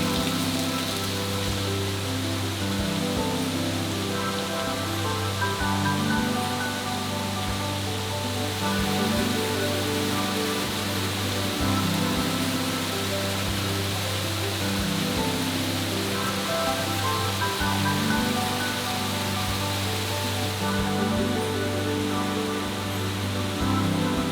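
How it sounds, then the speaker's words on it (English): Rushing water pours continuously in a dense, steady roar like a waterfall at Watkins Glen State Park, New York, with no voices over it. "It was fun to be able to walk underneath each of these different waterfalls."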